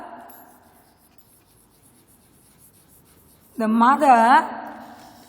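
Writing during an English lesson: after a long quiet stretch, one brief, fairly loud scratchy stroke squeaks out for under a second, then fades back to near silence.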